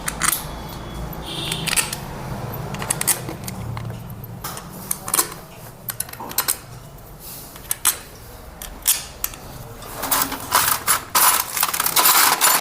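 Bolts are tightened on a Hero Super Splendor motorcycle engine with a hand tool, giving close, irregular metallic clicks and ratchet-like taps that grow busier toward the end. No voices are heard.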